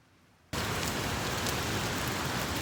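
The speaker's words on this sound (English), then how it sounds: "now I'm gonna go home, and the rain is not stopping literally." Heavy rain falling in Manila becomes suddenly loud after a quieter half second, then holds as a steady, dense hiss of downpour close by.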